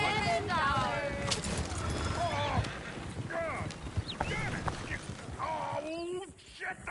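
Horses clop and whinny amid a noisy scene, with hoofbeats and high neighing sounds mixed together under shouting voices.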